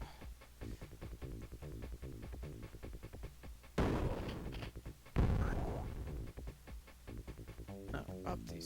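Grenades blast inside a video game shopping mall amid gunfire, two loud bursts landing a second apart with long noisy tails, set against a rapid rhythmic backdrop and voices talking.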